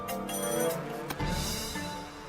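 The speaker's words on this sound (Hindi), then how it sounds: "आ गया नीरज का फोन।" A telephone rings in a TV crime drama scene, giving a bright electronic ringtone with repeating tonal bursts, loud and close, with no one speaking over it.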